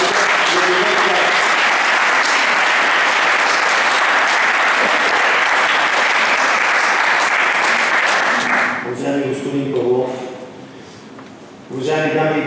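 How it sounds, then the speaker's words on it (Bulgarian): A large audience at the opening of a national CIOFF meeting applauds loudly and continuously for the Bulgarian chitalishta, then the clapping dies away into scattered claps near the end. "Моля за вашите аплодисменти за българските читалища."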